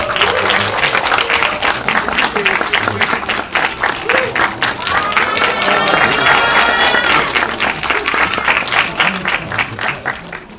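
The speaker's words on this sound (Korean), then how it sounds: "열렬히 한번 환영해 주시고 박수 한번 쳐주시면 감사하겠습니다." A packed cinema audience at a film stage greeting claps loudly and continuously, with cheers rising in the middle of the applause and voices mixed in throughout.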